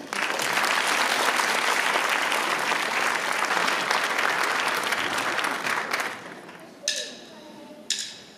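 Dense, loud applause from an audience for primary-school students after their carol performance, a sustained wall of clapping for about six seconds that then fades out, with a couple of short sharp sounds at the tail.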